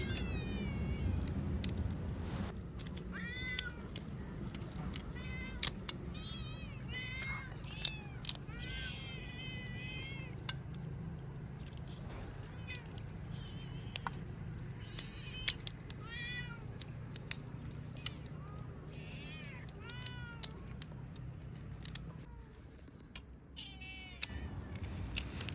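Several pet cats meow repeatedly and eagerly in a home kitchen while prawns are cleaned for frying, their rising and falling cries coming close and often overlapping above a steady low background hum.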